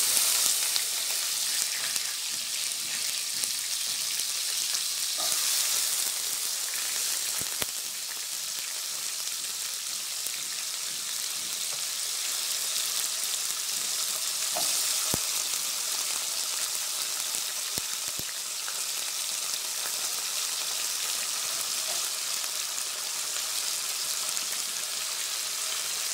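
Potatoes frying with green chilies in a pan for a tamarind pickle biryani give off a steady, close sizzle that continues throughout, broken by a few faint clicks and taps.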